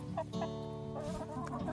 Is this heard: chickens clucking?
yes